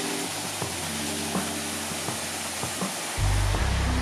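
Continuous rushing roar of the Porto Formoso waterfall on São Miguel in the Azores, broad and steady, with a low droning hum underneath that swells louder near the end.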